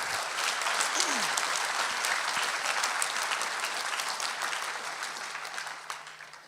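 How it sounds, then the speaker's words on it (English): Dense, sustained applause from the audience at a livestock auctioneer championship awards ceremony, honoring the finalists, full and even throughout before tapering slightly at the end, with a brief whistle or voice near the start. "Please pay them off with a big round of applause."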